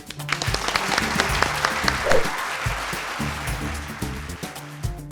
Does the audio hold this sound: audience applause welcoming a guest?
yes